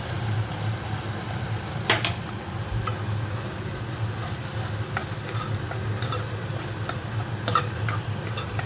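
Hot tempering of turmeric and curry leaves poured into cooked sorrel-leaf curry, a loud close continuous sizzle and frying crackle with occasional stirring clicks, no talking.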